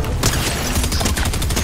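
Rapid, dense gunfire from a video game firefight, loud and continuous bursts of shots rattling close throughout the short moment.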